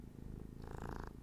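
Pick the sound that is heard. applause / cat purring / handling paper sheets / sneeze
cat purring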